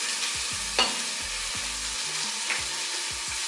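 A whole onion frying in fat in a pan, giving a steady close sizzle throughout with a few soft stirring scrapes and knocks.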